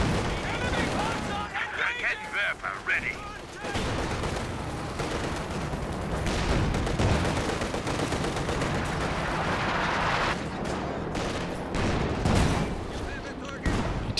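Gunfire and the boom of a ZiS anti-tank gun fill a Company of Heroes 2 battle, with repeated shots and bursts layered under continuous commentary from a speaker talking throughout.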